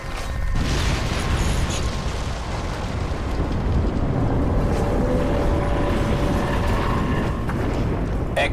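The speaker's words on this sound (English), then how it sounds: "Warning. Explosion imminent." A massive explosion in the Crysis 2 shooter video game, a sustained thunderous rumble with debris and mechanical groaning layered through, loud and dense for the whole stretch.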